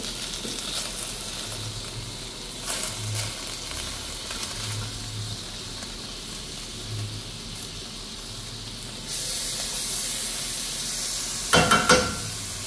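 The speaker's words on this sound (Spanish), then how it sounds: "Vamos a agregarle a la cazuela una cucharadita de margarina" Margarine melting in a cooking pot gives a steady sizzling hiss throughout, rising a little louder toward the end, with a few soft clanks of utensils against the pot.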